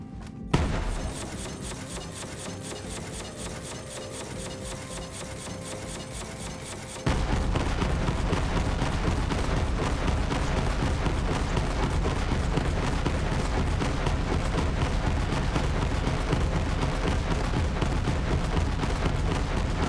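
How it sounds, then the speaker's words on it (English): Grenade in Borderlands 3 bursting into a long firecracker chain: a dense, continuous crackle of rapid small explosions that turns louder and heavier after a few seconds and keeps going without pause. "The grenade detonates into a firecracker chain, always sticky, explodes for a really long time."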